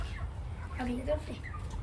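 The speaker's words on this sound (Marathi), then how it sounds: "बघा कोंबड्या न्यायला आलोय" Chickens at a poultry shop cluck in short, close bursts over steady background noise, with a brief tonal call in the middle.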